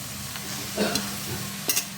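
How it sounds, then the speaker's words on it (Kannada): Chopped amaranth (rajgiri) greens go into a pan for a North Karnataka palya and are stirred, giving a few short scraping, rustling stirs over a low, steady sizzle. "ಈಗ ಕಟ್ ಮಾಡಿ ಇಟ್ಕೊಂಡಿದ್ನೆಲ್ಲ ರಾಜಗಿರಿ ಅದನ್ನೆಲ್ಲ ಇದಕ್ಕೆ ಹಾಕೊಂಡ್ಬಿಡ್ತೀನಿ"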